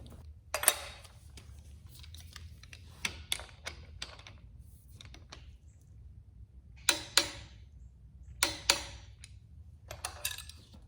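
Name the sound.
torque wrench tightening Ford 408 cam bolt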